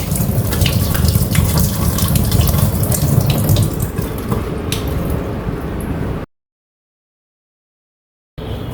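Raw green mangoes are rinsed under a running kitchen tap, a steady close splashing of water that cuts off abruptly and resumes briefly at the end.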